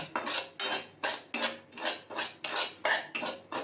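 Semolina being dry-roasted for sheera in a metal pan, a spoon scraping and stirring in about ten regular strokes, each a bright scratchy swish with a faint clink, close and fairly quiet with no talking.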